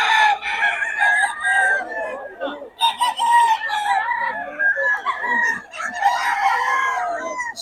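A young gamecock stag crows and clucks up close, with several loud, strained calls and broken clucking phrases repeating over several seconds, clear and alone.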